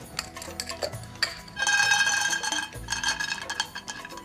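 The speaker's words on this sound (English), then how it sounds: "now, to finish that dressing off, some toasted peanuts. Get the pan nice and hot." Peanuts dry-roasting in a hot pan with a little salt, rattling and clinking against the metal in irregular bursts, with a brief louder scraping stretch in the middle.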